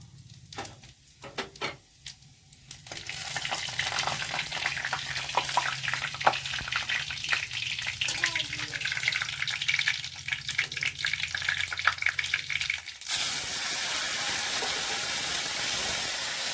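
Cinnamon, bay leaf, dried chilli and cumin sizzle in hot oil, a steady close hiss of frying that starts sparse with a few crackles, then fills out and runs on continuously.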